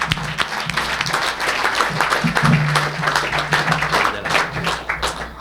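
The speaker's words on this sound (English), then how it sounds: "Huge round of applause." A presentation audience gives a hearty round of applause, with dense clapping sustained across the whole span and a faint voice briefly murmuring underneath.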